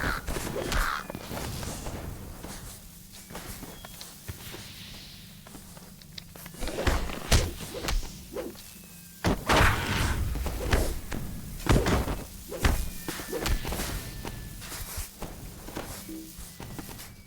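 Fireworks go off in the online game Lord of the Rings Online, a string of sharp booming bursts and thuds at uneven intervals over a low droning background.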